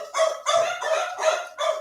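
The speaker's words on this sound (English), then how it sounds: "The dogs are barking." Dogs bark in a quick series of five sharp, evenly spaced, fairly loud barks close by, with no talk over them.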